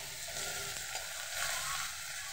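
Onions frying in a pan for a home-style okra curry, a steady broadband sizzle that holds at an even, moderate level throughout with no talking.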